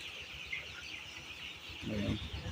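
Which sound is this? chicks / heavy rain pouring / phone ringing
chicks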